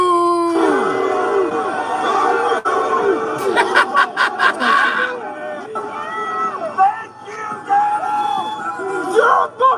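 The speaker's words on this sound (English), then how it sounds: "They booed Trump at the Super Bowl." A Super Bowl crowd booing Trump, heard as a loud, dense roar of many voices with rising howls and jeers. A voice shouts over it in the middle, and the noise swells and fades in waves throughout.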